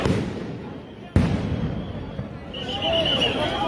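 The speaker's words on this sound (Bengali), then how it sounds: "আবারও সাউন্ড গ্রেনেড মারছে পুলিশ।" Police sound grenade going off during a street clash between police and mobile traders in Karwan Bazar, one sharp, loud bang amid outdoor crowd noise, with a distant siren-like whine following.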